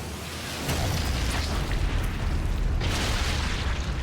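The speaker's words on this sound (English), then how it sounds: "I even planned a quintuple grenade kill." Grenade explosions in Sniper Elite 5 roll out as a dense, continuous rumble with heavy low-end booms. Brighter bursts rise around the middle and near the end.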